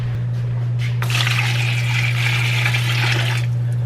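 Warm water runs steadily from a tap into a container for a recipe, a close, continuous splashing gush lasting about three seconds over a low steady hum.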